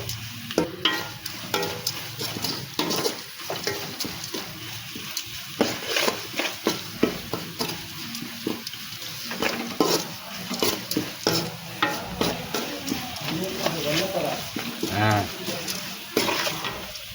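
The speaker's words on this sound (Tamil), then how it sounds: "சின்ன வெங்காய சாதம் நல்லா வெங்காயம் வதங்கிருச்சு" Small onions sizzle and crackle with turmeric in a pan while a spoon scrapes and stirs repeatedly, with occasional clinks of metal throughout.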